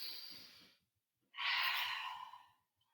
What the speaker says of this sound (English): Take 1 more big breath.